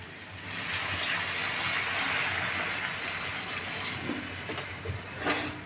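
Water boils in a pan for fish gravy, a steady bubbling hiss with soft crackles that stays fairly quiet throughout, with no one speaking.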